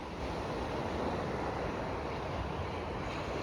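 Stormy sea surf at Anapa rolls in as a steady, dense wash of breaking waves, quiet and distant, with no voices.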